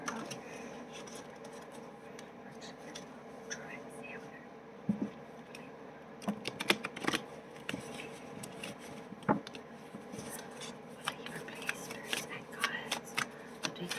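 Soft rustling and flicking of tarot cards being shuffled in hand rather than on a table, irregular and close, with faint quiet background noise.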